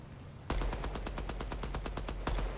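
Rapid automatic gunfire from a weapon in the shooter game Deadrop, a sustained burst of evenly spaced loud shots lasting about two seconds after a brief lull, close and dominant.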